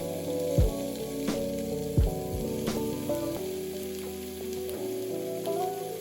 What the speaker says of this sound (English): I'm gonna put the pork strips or pork belly like seasoning side down